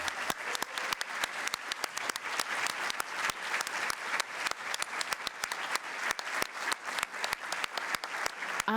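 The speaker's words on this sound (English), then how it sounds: "I just want us to all give an extraordinary round of applause to the Garrison Institute" Applause from a gathering at the Garrison Institute: fairly close, crisp individual claps stand out sharply over a softer wash of clapping, steady throughout.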